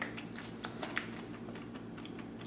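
Close-up crunching as someone chews roasted unsalted macadamia nuts, several crisp bites and grinding chews in quick succession, no talking.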